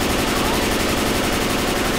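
Rapid automatic gunfire rattles continuously and loudly throughout a co-op zombie shooter game, dense bursts with no pauses.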